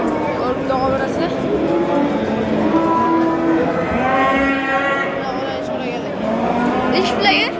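Cattle at a livestock bazaar, Sho'ro market, low drawn-out moos rising and falling one after another over a continuous backdrop of traders talking and haggling nearby.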